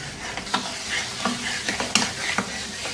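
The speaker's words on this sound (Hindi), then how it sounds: "और अब इसको अच्छी तरह से मिक्स करना है कि ये जो टमाटर हैं ये इसमें घुल जाएं।" Chopped tomatoes sizzle in hot oil in a karahi over high heat while a spoon scrapes and stirs with repeated sharp clinks close up.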